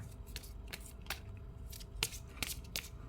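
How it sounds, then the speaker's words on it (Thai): Tarot cards are shuffled by hand in soft, quiet bursts of flicking and riffling, irregular and close, with no talking. "เดี๋ยวผมจะสับไพ่ก่อนนะครับ"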